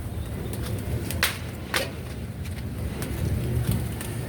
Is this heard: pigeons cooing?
yes